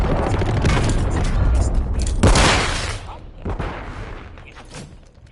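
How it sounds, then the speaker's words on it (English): A cruise missile strike in the video game Call of Duty MW3: a loud, heavy explosion amid rumbling battle noise and gunfire, peaking sharply then fading, with voices talking over it. "Friendly cruise missile approaching target."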